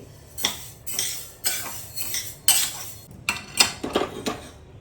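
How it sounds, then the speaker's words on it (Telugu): Moong dal being dry-roasted in a pan over medium flame for sweet laddus, stirred with a metal spoon: repeated scraping clinks against the pan in an irregular rhythm, close and moderately loud, with no talking. "ఇట్లా మీడియం ఫ్లేమ్లో పెట్టి వేయించుకోవాలండి. ఇలా తిప్పుతూనే ఉండాలి"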